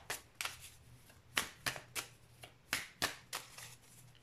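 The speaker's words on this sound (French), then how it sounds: "on va tirer quand même d'autres cartes pour avoir d'autres messages." A deck of tarot-style oracle cards is shuffled and cards are drawn in a quiet room, giving a series of soft, sharp riffling snaps and slaps at irregular intervals, close and clear, with no talking.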